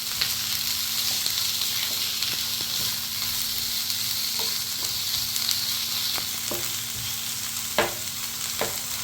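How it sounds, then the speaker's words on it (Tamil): Onions and tomatoes fry for a mutton curry, a steady close sizzle in the pan with occasional stirring clicks and scrapes, no voices. "வெங்காயம் வதங்கினதுக்கப்புறம் 2 தக்காளி கட் பண்ணி வச்சுட்டு ஆட் பண்ணிக்கலாம்."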